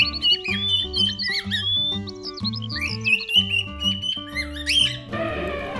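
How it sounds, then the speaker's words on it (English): A European robin sings a run of bright, high, twittering phrases over steady background music, with a burst of noise closing it out. "European robin"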